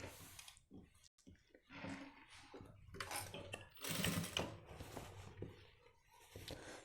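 A sewing machine stitches the waistband of a pair of men's high-waist pants in uneven bursts. The sound is close but low in level, broken by short pauses and some handling of the fabric.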